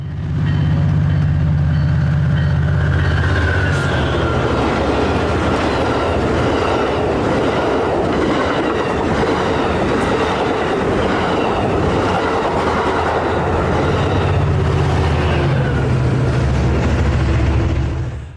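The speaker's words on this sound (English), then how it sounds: "This is the extra-long Surfliner train returning to Los Angeles." A long Amtrak Surfliner passenger train rumbles past close by at Del Mar, wheels clattering rhythmically on the rails for the whole stretch, loud and continuous with a deep engine drone.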